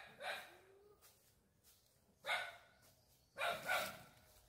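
A dog at a house barks three times at a moderate distance, each bark a short loud burst separated by pauses of about a second, with quiet outdoor background between.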